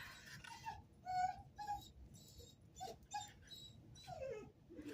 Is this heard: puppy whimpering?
yes